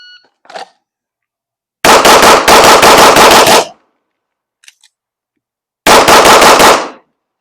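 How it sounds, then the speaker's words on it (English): A full-size SIG P320 fires 115-grain full metal jacket 9mm rounds outdoors in rapid, loud strings: one long burst of quick shots, a pause, then a shorter burst. "It's going to be the 17 rounds of 115 grain full metal jacket out of the SIG P320 full size."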